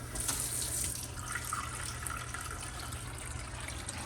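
Filtered water runs steadily into a pot for simple syrup, a soft, continuous faucet-like stream with a faint splashy hiss, heard close and alone without talk.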